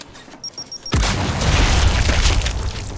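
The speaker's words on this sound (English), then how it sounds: "Throw and frag." A frag grenade in Gears 5 detonates with a sudden loud boom after a few beeping ticks, the blast rumbling and crackling for a couple of seconds afterward.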